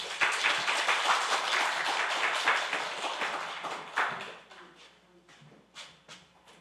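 A church congregation applauds during a Sunday service, dense sustained clapping that thins and fades out toward the end.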